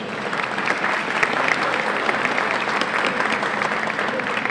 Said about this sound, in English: Let's help me to give them a round of applause.